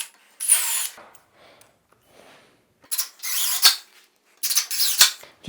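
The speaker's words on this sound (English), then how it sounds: "I'm just going to do a little pilot hole for each of these." A power drill bores pilot holes for screws into an IKEA bookcase in three separate bursts, each a loud, whirring whine lasting about a second, separated by quiet pauses with faint handling noise.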